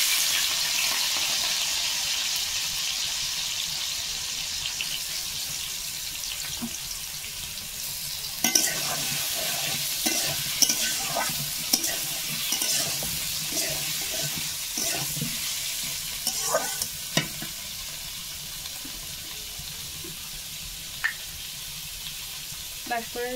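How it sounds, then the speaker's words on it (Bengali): Panch phoron spices fry in hot oil, a steady sizzle with a scattering of sharper clicks and scrapes from stirring in the pan. "এখন এই যে পাঁচফোড়নগুলো দিয়ে আমি ভেজে নেব।"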